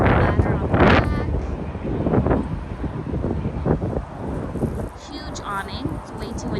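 Strong outdoor wind buffets the microphone in loud, continuous rumbling gusts beside a 2018 Forest River RV with a large awning, while a person talks throughout.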